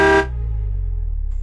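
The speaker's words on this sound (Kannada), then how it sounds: "ಹಾರನ್ ಶಬ್ದ ಆಯ್ತು, ಅವನೇ ಬಂದ ಅನ್ಸುತ್ತೆ." A vehicle horn gives one short, loud honk that cuts off abruptly, followed by a low rumbling hum as the vehicle arrives.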